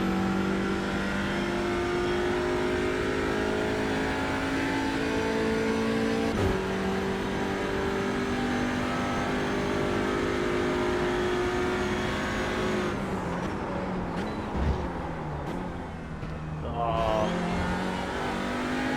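TCR touring race car engine in iRacing at Road America, revving hard and steadily with rising and falling pitch through gear changes, loud and close, with brief tire squeal and a dip near the end.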